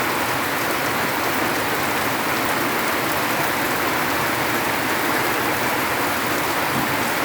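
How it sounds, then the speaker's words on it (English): Heavy rainfall on a very wet day, a dense, steady hiss of rain pouring down without pause, loud and close, with no voices. "falling in full rain"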